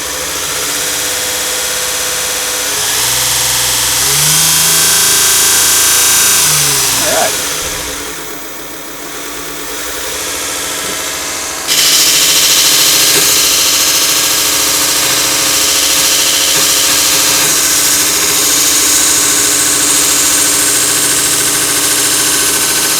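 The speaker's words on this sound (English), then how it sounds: "if you want a belt sander with a ton of versatility and something that can absolutely chop through metal" A VEVOR 30 x 1-inch variable speed belt grinder sander with a VFD whirs loudly and steadily, its pitch rising and falling as speed changes, dipping briefly in the middle before surging back to a louder, sustained high-speed whine.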